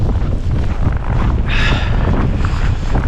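Strong wind roars and buffets the microphone continuously, a loud rushing gust with no voices.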